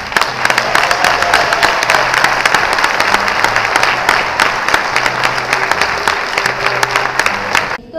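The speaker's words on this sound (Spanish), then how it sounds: "¿Le hará falta un aplauso fuerte?" An audience at an award ceremony claps loudly and steadily for several seconds, a dense, continuous round of applause that ends abruptly.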